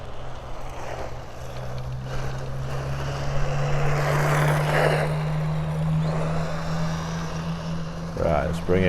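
Tamiya Avante radio-controlled car running laps, a thin high motor whine rising and falling as it passes, heard at moderate distance beneath outdoor ambience and a bit of nearby talk.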